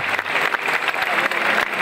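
A crowd claps steadily, dense and continuous applause filling the space throughout, as a Corpus Christi procession leaves a cathedral.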